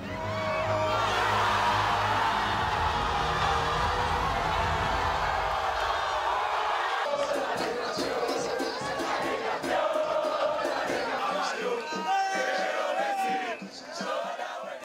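Fans gathered outside Diego Maradona's house in Argentina cheer Argentina's victory, a loud massed roar of shouting and whooping that thins partway through into scattered cries, horns and chanting voices.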